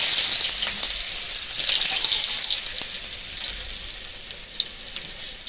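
Chopped garlic dropped into hot oil already used for frying pakoras, a loud bright sizzle that starts at full strength and settles slightly, with a faint stir near the end.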